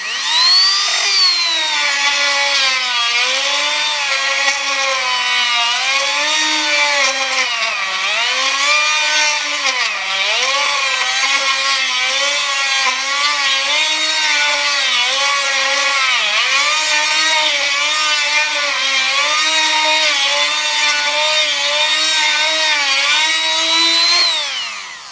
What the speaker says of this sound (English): This sanding drum here, well, it seems to be holding out.